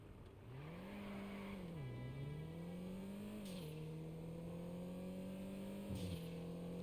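Panto car engine in GTA Online revving through a short drive, a steady buzzing drone that climbs and dips with gear shifts, moderately loud and with no talk.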